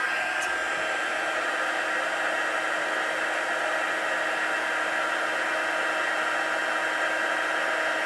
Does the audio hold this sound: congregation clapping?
no